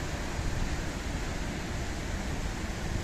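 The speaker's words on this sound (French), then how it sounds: "Jolie cascade là-bas." Constant loud rushing of a waterfall in the Gorges du Malpasset, Val d'Isère, France, a broad steady roar with no breaks.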